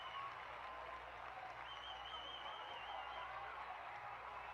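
An Auburn crowd cheers and applauds steadily at an SEC Tournament baseball game against Arkansas after a base hit, a broad, distant wash of claps and voices with a faint whistle over it.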